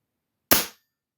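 A Titan Globe .177 side-lever single-shot target air pistol fires once, a sharp, clean crack that decays quickly, with no talking.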